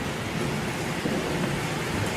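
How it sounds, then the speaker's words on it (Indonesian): Steady rain with thunder during a cloudy rainy-season spell, a dense, even wash of noise that stays loud and unbroken throughout, with no voices. "mendung ya. Petir nih."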